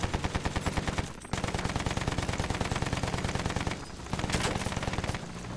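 Continuous loud rapid machine-gun fire in the video game Battlefield 1, dense rattling bursts with two brief pauses.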